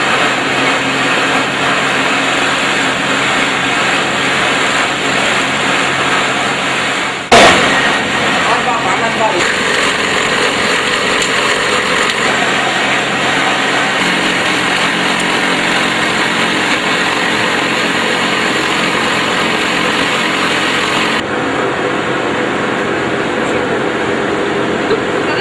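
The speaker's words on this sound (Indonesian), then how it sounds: "Sebelum dicampur, onglok digiling terlebih dahulu agar lebih halus dan lembut" Grinding machine processing cassava pulp for cattle feed runs loud and continuous, a dense whirring roar with a sharp thump partway through and a slight drop in tone near the end.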